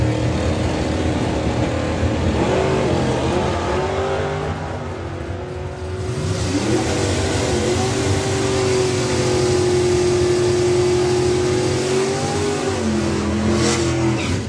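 Duster drag car making a run at Santa Pod Raceway during a nationals drag racing event, its engine roaring loud and continuous for about fourteen seconds, the pitch climbing through gear changes with steady high intensity and no talk.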